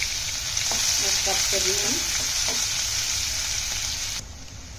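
Chopped onions sizzle steadily in hot oil in a pan, a constant loud frying hiss with occasional stirring scrapes, and someone speaks briefly over it.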